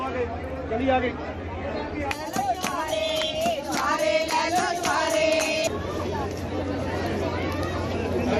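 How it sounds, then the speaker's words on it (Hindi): A crowd of devotees fills the Naina Devi temple complex in Himachal Pradesh at the start of Gupt Navratri, with dense, close chatter and babble throughout and a stretch of louder, raised voices in the middle. "मंदिर परिसर में भक्तों की भीड़ उमड़ पड़ी"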